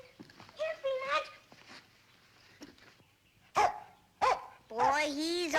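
Fremont, a cartoon dog from Dennis the Menace, gives a few short, sharp barks, with whimpering vocal sounds and voices earlier and a longer burst of yips at the end.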